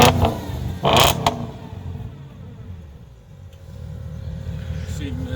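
A Porsche engine with a non-standard muffler turns over and starts, then settles into a steady low idle with a brief louder burst at the start; close and fairly loud.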